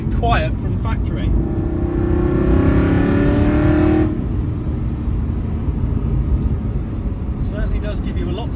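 A 2007 Aston Martin V8 Vantage with the 4.3 V8 revs loudly and close by, the engine note climbing and holding for a few seconds before dropping back to a steady idle, with people talking over it.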